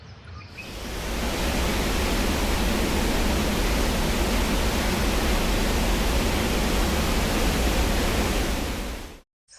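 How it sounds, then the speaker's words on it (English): Loud, steady roar of water pouring over a spillway on a trail, a dense, unbroken rushing wash heard up close for several seconds with no talking. "I've reached the spillway and I can hear it. It doesn't sound great. It is really loud."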